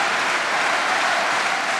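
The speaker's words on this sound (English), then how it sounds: "And the crowd now really doing their best to lift" A table tennis arena crowd at a men's team final claps steadily and loudly, a dense, even wall of applause urging on a German player.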